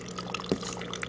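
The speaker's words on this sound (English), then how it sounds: "there's the drip fall." Water drips from a drip fall inside a dart frog vivarium, with one small distinct drop against a soft wet background.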